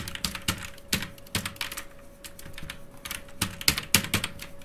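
Python code being typed on a computer keyboard: a close, steady run of crisp key clicks at an uneven pace, with short pauses between bursts and a faint constant tone underneath. No speech.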